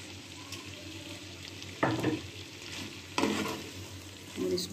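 Chopped tomatoes cook in a pan for Lahori chickpea curry, with a steady close sizzle and two bursts of stirring scrapes near the middle, then another rustle at the end; no talking.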